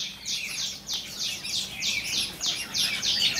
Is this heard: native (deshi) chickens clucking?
no